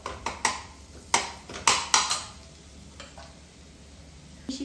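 Palak paneer masala being sautéed in oil in a pan: soft frying sizzle under sharp clinks and scrapes of a spoon stirring against the pan, several quick taps in the first seconds, then quieter sizzling.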